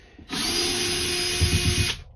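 A power drill whirs in one steady, close burst of under two seconds, driving into wood during a van build, with a slight labouring toward the end.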